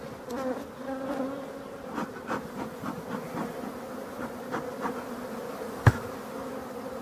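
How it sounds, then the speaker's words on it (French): Honeybees swarm around an opened hive as the beekeeper works the frames, a steady, fairly soft droning buzz with individual bees flying past close by, rising and falling, and a single sharp knock near the end. "Parce qu'il y a beaucoup d'abeilles."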